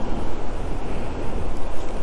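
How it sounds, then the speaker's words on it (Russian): Wind blows across a frozen lake during winter ice fishing, a steady buffeting roar that rumbles against the microphone with no pauses and no talk. "Ну а чё, ветер, погода портится, снег начался."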